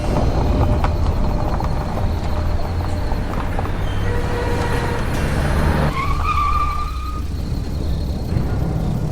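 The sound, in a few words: car driving at night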